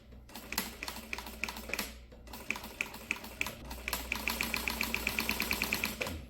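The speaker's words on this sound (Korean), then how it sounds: "지금 이렇게 소리가 나는 이유는요. 워낙에 두꺼운 원단을 뚫고 들어가기 때문에" A sewing machine at reduced speed stitches through twelve layers of denim, producing a close, rhythmic, heavy clacking with a thumping punch on each needle stroke, briefly pausing before resuming at a steady pace.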